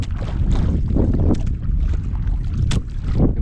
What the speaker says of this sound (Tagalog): Mahangin na rin.